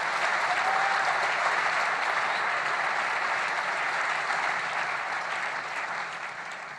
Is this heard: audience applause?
yes